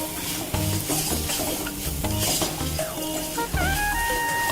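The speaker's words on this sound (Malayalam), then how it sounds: "നമുക്ക് ഈ മസാലയൊക്കെ ഒന്ന് മൂക്കാൻ വേണ്ടിയിട്ട് നന്നായിട്ടൊന്ന്" Masala of chili, coriander and pepper powder being stirred as it fries in a pan for Kerala karimeen pollichathu, a steady sizzle with scraping strokes under loud background music.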